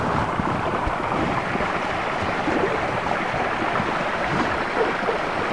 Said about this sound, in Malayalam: ചെറിയ വാട്ടർഫാൾസ്.